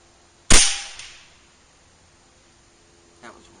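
A single sharp report from an Air Venturi Avenger .25 air rifle firing a 40 grain Griffin slug, loud and close, with a quick decaying tail and a faint second tick a few seconds later.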